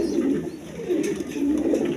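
Pigeons coo nearby in a low, rolling, repeated murmur, several soft coos overlapping against faint background noise.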